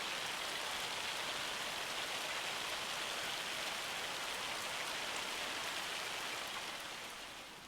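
Constant rattling hiss of hail falling in Farming Simulator 25, a thick unbroken wash of tiny impacts that fades slightly in the last second, no voices.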